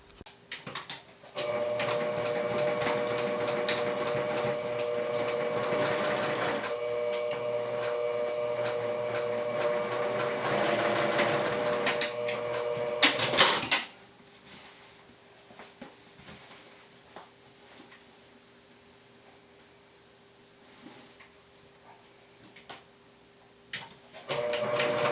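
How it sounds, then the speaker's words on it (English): A sewing machine stitches a half-inch side seam on a bag lining, running in one steady, loud whirring stretch of about twelve seconds, then stopping and giving way to quiet handling noises. "take this over to your sewing machine and sew each side with a 1/2 inch seam allowance"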